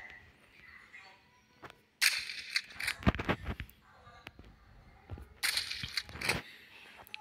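Two loud, sharp gunshots crack out in a bear hunt in a hunting video game, each followed by a burst of crashing noise, with quieter ambience between them.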